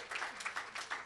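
A church congregation applauds, a short burst of dense, rhythmic clapping at moderate distance.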